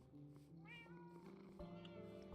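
Tiger-striped cat meowing in Minecraft, a faint drawn-out rising meow partway through over quiet background tones, with no talk.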